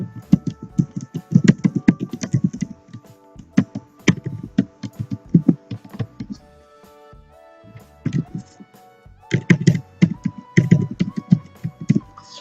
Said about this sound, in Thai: ทำการพิมพ์รายละเอียดต่างๆ ลงไปนะคะ ตามที่ต้องการ